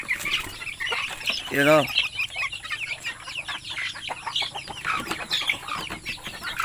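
Pure native chickens on a farm clucking in a busy, overlapping chorus, with one bird's call rising clearly near the middle while a voice speaks briefly in the background.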